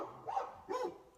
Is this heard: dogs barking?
yes